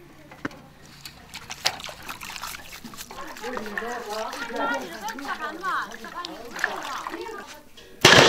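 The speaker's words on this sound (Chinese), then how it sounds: "我们现在舀点热水，稍微清洗下哈。" Hot water scooped and poured over three large, already cleaned cow hooves, giving splashing and trickling sounds that build through the middle. A voice talks over it, and a sharp loud burst comes at the very end.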